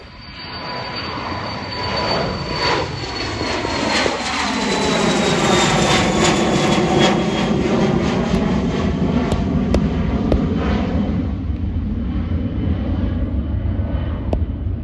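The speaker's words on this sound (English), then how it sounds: "Taking off now is a Cessna 680A citation latitude." A Cessna 680A Citation Latitude business jet taking off at Manchester Airport, a loud roaring engine rumble with a descending whine that builds and passes close by, then holds as a broad sustained roar.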